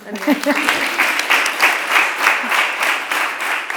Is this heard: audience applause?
yes